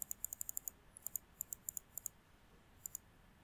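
A computer mouse button is clicked during a JavaScript coding session: quick bursts of sharp, faint clicks in uneven clusters with a short pause near the end, and no talking.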